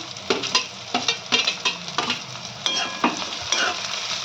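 Capsicum and cauliflower stirred and frying in a pan for vegetable pulao: a close, lively sizzle broken by regular scraping strokes of a spoon, about two per second, with no talk.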